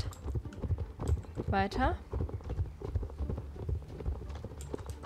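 Horse hooves clip-clopping in a steady rhythm while riding in the Star Stable video game, close and regular under a person talking, with a brief whinny-like tone partway through.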